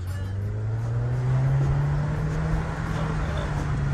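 A Triumph Tiger motorcycle engine runs steadily at high altitude, a constant low drone with a slight rise in pitch partway through, heard under wind and road noise.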